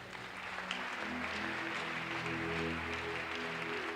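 A church congregation applauding during a sermon, a dense steady wash of clapping with faint voices mixed in, moderately distant and continuous.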